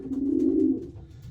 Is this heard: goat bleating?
no